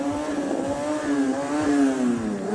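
A motorcycle engine revs and holds a steady drone through a wheelie, its pitch rising and falling as the throttle works the balance point and engine braking eases the bike down, loud and close with no talk.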